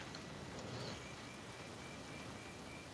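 Steady rain from a golf video game's wet-weather setting, a constant broadband hiss of falling drops with no breaks, holding an even level throughout with no talk over it.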